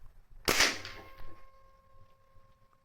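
One sharp, loud gunshot crack from an air rifle firing a supersonic pellet, louder than a .22 rimfire, followed by a short fading ring, then quiet background.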